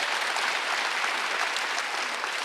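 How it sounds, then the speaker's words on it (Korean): Steady applause from a church congregation at a Wednesday worship service, dense and even throughout, with no talk over it. "지금 박수를 하도록 했어요"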